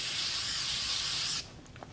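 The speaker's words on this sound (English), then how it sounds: "spray both sides." An aerosol can of headliner glue sprays in one continuous close hiss that stops abruptly, followed by faint handling noises.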